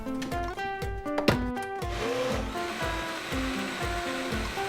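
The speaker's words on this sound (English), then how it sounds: "Blend it to a smooth puree and then pour it into a 13 by 9 baking dish." Blender pureeing a mint mixture of fresh spearmint leaves for ice cream. The motor whirs loudly and changes pitch as it spins up, with a few clattering knocks before settling into a steady grinding drone.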